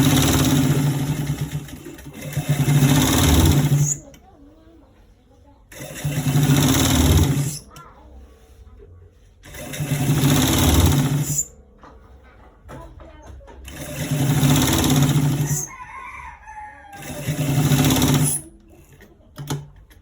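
A sewing machine stitches a stripe onto the side seam of a pair of trousers, running in five loud bursts of steady whirring separated by short pauses, with faint handling noises in between.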